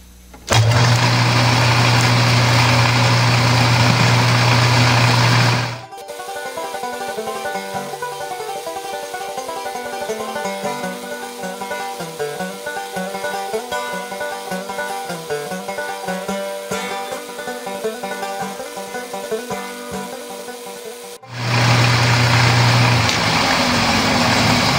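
A metal lathe motor roars loudly while facing off a metal workpiece, then drops to a steady metallic whir with ringing tones for about fifteen seconds before the loud roar returns.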